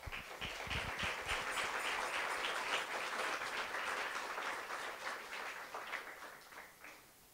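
Church congregation giving a loud round of applause to the Lord during a sermon, sustained dense clapping with a few distinct claps at the start, tapering off toward the end.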